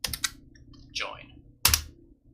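A few quick keystrokes on a computer keyboard while code for a Minecraft plugin is typed, a short burst of clicks then one louder tap, with someone speaking briefly between them.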